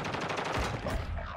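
Rapid gunfire rattles in a chaotic multiplayer shooter match, a dense, loud burst of automatic shots blending into a continuous roar for over a second, close and harsh.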